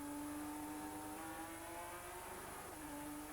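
Eurocars race car onboard at the start of a race at Brands Hatch in 1996, engine droning steadily and loud with a sustained high whine throughout, no talk.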